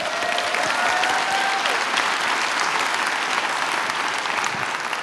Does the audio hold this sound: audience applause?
yes